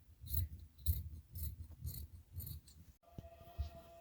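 Scissors snip through fabric while cutting out a neck design, making a steady series of quiet, close cuts about twice a second with no talking.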